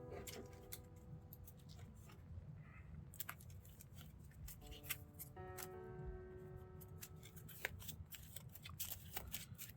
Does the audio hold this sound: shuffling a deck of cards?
yes